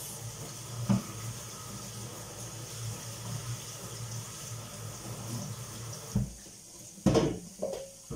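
Tap water runs steadily at low volume in a kitchen sink during rinsing, with a few faint clinks and splashes toward the end.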